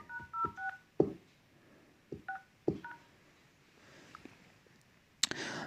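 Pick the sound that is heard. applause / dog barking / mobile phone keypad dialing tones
mobile phone keypad dialing tones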